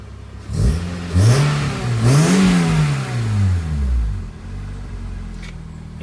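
A car engine revs through its intake, several rising and falling sweeps of pitch in quick succession, close and loud, then settling to a steady idle rumble with no talking.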